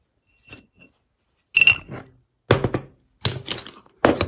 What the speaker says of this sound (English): Cut the glass like that.